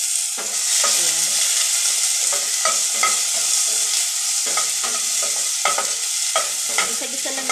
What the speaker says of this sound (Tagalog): Gisa-gisa lang yung kamatis